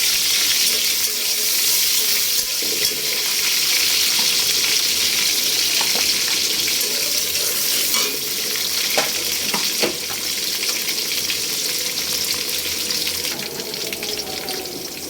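Chopped onion and green chillies fry hard in hot oil in a pan while a country duck curry is cooked, a loud, constant close sizzle with a few faint stirring knocks and no talk.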